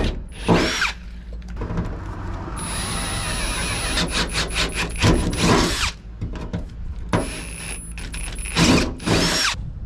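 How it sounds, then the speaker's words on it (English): A power drill bores a pilot hole through a metal campervan body panel, with a steady whirring run broken by short stops, restarts and bursts of drill noise. "we're going to drill a pilot hole, and then we're going to drill a larger hole"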